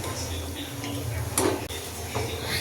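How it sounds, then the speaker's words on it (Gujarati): Sama rice kheer being stirred in a pot, with a spoon scraping and knocking against metal in a short burst, close and moderately loud over a low background hum. "આ રીતે આપણે મિક્સ કરતા જ રહીશું"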